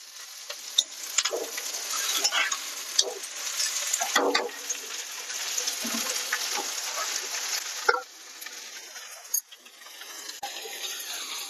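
Pirandai (veldt grape) sautéing in a pan for pickle, a soft continuous sizzle broken by intermittent scraping and clinking stirs, close and moderate in level.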